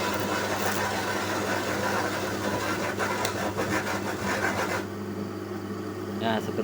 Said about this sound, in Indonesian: Ini tanpa kita matikan mesin karena ini yang kita butuhkan angin.